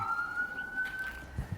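An emergency vehicle siren passes outdoors, a single steady wailing tone at moderate distance, fairly faint and heard alone without talk.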